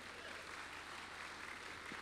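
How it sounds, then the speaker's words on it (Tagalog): A church congregation applauds in a dense, even wash of clapping that is steady and fairly distant throughout. "Isa nga pong malakas na palakpak sa ating Panginoon."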